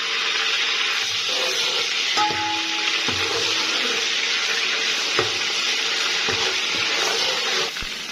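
Steady sizzling of onions frying in hot cooking oil for beef paya, with occasional stirring clinks and scrapes against the pot.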